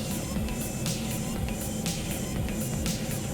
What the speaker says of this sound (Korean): 속도를 맞추려고 파워를 넣었다 뺐다 이 웅웅하는 소리 들리시죠?